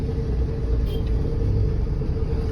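A vehicle stuck in traffic near a wholesale textile market in Ambala, its engine giving a steady low rumble close by with no voices over it.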